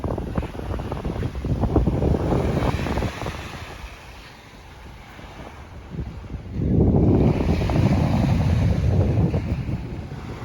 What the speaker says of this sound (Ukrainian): Хвилі набагато менші, вітру менше, тому що скала захищає